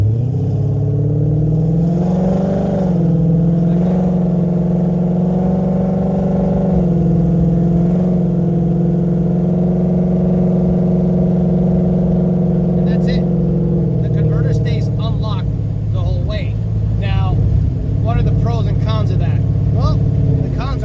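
A Coyote-swapped Ford Fairmont with a 6R80 automatic transmission drives along under light throttle, a loud steady engine drone that drops in pitch as the gearbox shifts up.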